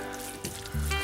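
Salmon with spinach and a spoon of cream cheese frying in a pan, a steady close sizzle with a brief louder crackle near the end.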